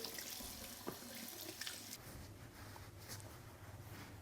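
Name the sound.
water running over a waterproof phone case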